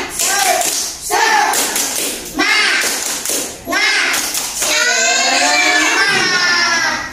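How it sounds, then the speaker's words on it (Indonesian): Group of young preschool children clapping along in a rhythmic clapping chant in a classroom, bursts of claps mixed with excited kids' voices and chanting, loud and close. "Ayo, tepuk semangat."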